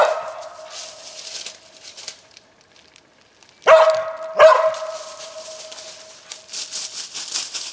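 A coonhound bays at the foot of a tree holding a treed raccoon during a night hunt in Louisiana, with loud drawn-out barks separated by pauses and a faint echoing tail.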